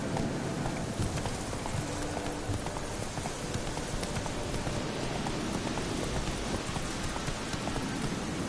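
Roach the horse galloping through rain in Witcher 3, quick clip-clop hoofbeats under a constant hiss of rainfall, steady and close throughout.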